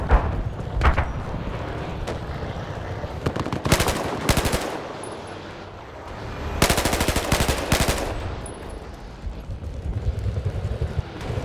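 Gunfire in the video game Battlefield Hardline: loud, rapid automatic bursts that rattle in dense volleys, separated by brief lulls filled with rumbling battlefield noise.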